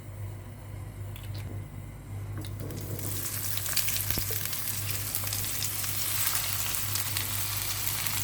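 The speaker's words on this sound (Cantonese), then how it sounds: "俾多啲油落去炒茄子啦" Food hits hot oil and a loud, steady sizzle builds and continues, close up, with occasional soft crackles and no voices.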